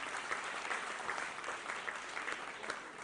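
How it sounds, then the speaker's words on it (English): Sustained applause from an audience welcoming a guest at a diplomatic affairs program, dense and steady throughout with no talk over it. "a round of applause for our guest."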